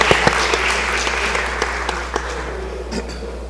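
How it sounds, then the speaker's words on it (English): Legislators and guests applaud on the Mississippi House floor, a steady round of clapping over a constant low hum that carries through the whole stretch without fading. "give her a round of applause"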